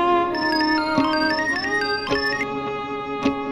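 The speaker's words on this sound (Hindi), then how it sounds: "रमेश भैया का फोन है" A phone ringtone plays a bright melodic electronic tune, loud and close, with sustained notes and a few sharp accents.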